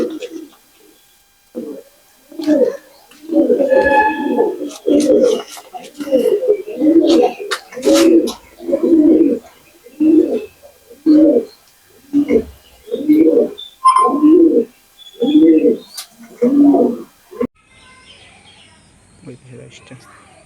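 Pakistani pigeons coo up close in a steady run of low, throaty calls, repeating in a rhythmic series before trailing off to quiet.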